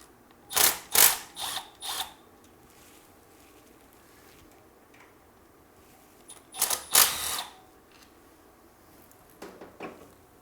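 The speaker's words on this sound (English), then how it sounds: "those nuts that you're taking off right now, the stud behind it is a 10 mil" A wrench working nuts off 10 mm studs during a car build, heard as two short clusters of quick ratcheting clicks separated by quiet, with a faint final burst near the end; close and moderately loud, no talk.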